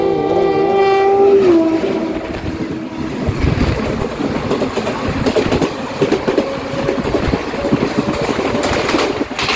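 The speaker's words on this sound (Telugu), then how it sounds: "ఏదో ట్రైన్ వస్తుంది" A MEMU express train passes close by on an Indian railway line, sounding a long, loud horn blast at the start before the rumble and clatter of the wagons roll steadily on; no talking.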